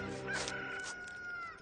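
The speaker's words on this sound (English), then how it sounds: "he went out on the porch, and a rooster crowed" A rooster crows once in a long, drawn-out call lasting over a second, loud and fairly close, with a steady background under it and no speech.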